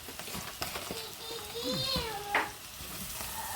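Beef shank being stirred with flour in a hot pan, a soft steady sizzle with scraping spoon strokes, a sharp clink near the end, and faint background voices or sounds mixed in.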